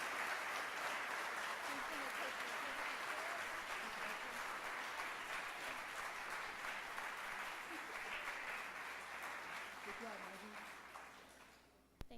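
A convocation audience applauds for staff celebrating 20 years of service, a sustained wash of clapping heard from a distance with faint voices beneath it, fading gradually toward the end.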